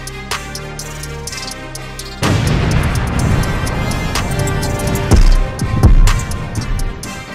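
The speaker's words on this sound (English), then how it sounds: "an explosion appears on screen" A booming explosion sound effect in a channel intro sequence bursts in after a quieter opening, then rumbles loudly and steadily, with a couple of heavier surges near the end.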